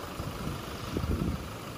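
A Toyota Hilux 2.4 D-4D Invincible double cab pickup's diesel engine idles quietly, a faint low steady rumble with slight irregular knocking pulses, heard alone.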